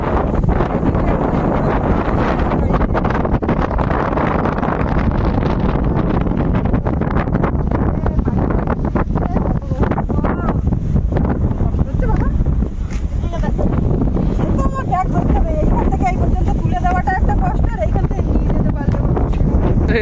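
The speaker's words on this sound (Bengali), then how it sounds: "সঙ্গে এমন বড় হাওয়া হচ্ছে, ঠিক মতো সব শোনা যাচ্ছে না" Heavy wind buffets the microphone outdoors in the Sundarbans with a constant roaring rumble, while voices talk faintly underneath.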